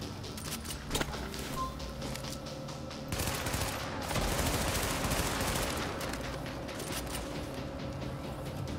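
Gunfire in The Division shooter video game: a steady stretch of overlapping shots and bursts that thickens partway through, moderately loud and somewhat distant, with no talking.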